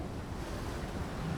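Sea waves washing against rocks at a hidden beach near Vizag, a continuous broadband rush of surf mixed with wind buffeting the microphone, close and fairly loud.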